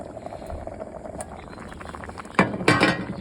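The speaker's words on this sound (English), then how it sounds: "Then for the next 3 minutes, I'm gonna let it boil" Japanese S&B Golden curry simmers in a mess tin with a soft bubbling hiss, broken near the end by a couple of louder metallic clinks and scrapes close by.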